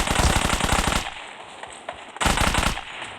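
Enemy machine gun fire in the mobile shooter BGMI bursts out loud and rapid, a dense one-second volley, then a quieter gap with a couple of faint shots, followed by another sustained burst.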